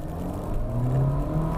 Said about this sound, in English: Put it in the sport mode and just pretty much floor it.